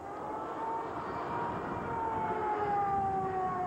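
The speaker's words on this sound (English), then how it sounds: "The screaming sirens in Dhahran warned of incoming Scuds" Air raid sirens wail in Dhahran, Saudi Arabia, during a Gulf War Scud missile attack, a steady rising tone heard from a distance over a dense, continuous rumble with no speech.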